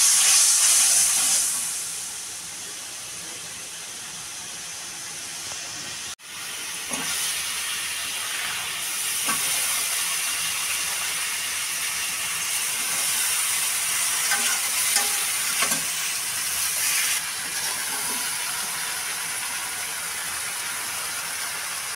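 Green chillies and red spice paste fry with tilapia in a pan, giving a steady loud sizzle and hiss throughout, with a brief dip near the start and occasional stirring scrapes.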